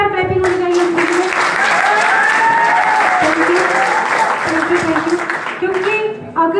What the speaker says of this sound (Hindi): मैं चाहती हूँ कि जोरदार क्लैपिंग होनी चाहिए उनके लिए